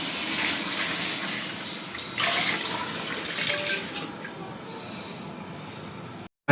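Water poured into a pot for cooking biryani, a steady rushing splash that swells briefly partway through and then settles into a continuous pour before cutting off.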